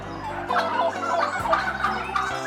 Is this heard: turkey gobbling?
yes